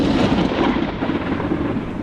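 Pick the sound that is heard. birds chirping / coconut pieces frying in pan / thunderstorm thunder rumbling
thunderstorm thunder rumbling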